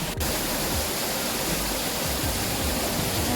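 Heavy unseasonal downpour in Thane district, with water pouring and pooling across a balcony. A steady, loud, unbroken roar of rushing water fills the whole stretch, with no voices.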